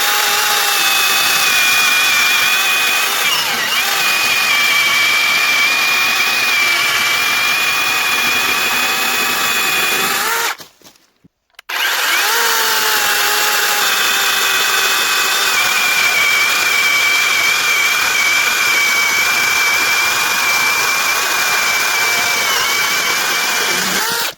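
A Procraft PKA42Li 20-volt cordless saw cuts steadily with a loud, close whine, stops briefly for about a second, then starts again and keeps cutting just as loudly to the end.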